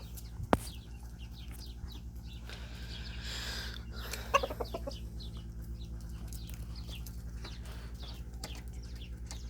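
Hens cluck and squawk faintly across a farmyard with a steady low rumble underneath, a brief flurry of agitated fowl noise rising midway as a rooster chases the chickens.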